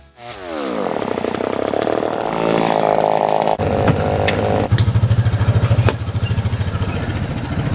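A chainsaw cuts through wood while clearing a loop near a deer stand and feeder site: the engine revs up loud and close, bogs and shifts pitch through the cut, then drops to a pulsing idle.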